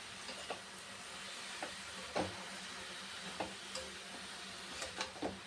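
Pieces of papaya hiss and sizzle steadily in hot oil in a pan, soft and close, broken by occasional light clinks and stirring taps.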